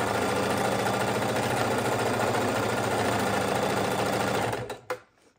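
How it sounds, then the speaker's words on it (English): A sewing machine stitches back and forth across the bottom of a fabric fidget quilt, running as a steady, loud, close whir for several seconds before slowing and stopping with a faint clunk. "at the bottom, I'm going to sew a couple of times back and forth across to make sure it is secure"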